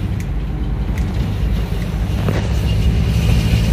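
Isuzu Panther diesel engine with a leaking flexible exhaust section, a steady low rumbling drone heard from inside the moving vehicle, loud and continuous with some wind noise.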